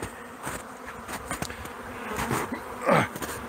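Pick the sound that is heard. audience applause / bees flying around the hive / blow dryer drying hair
bees flying around the hive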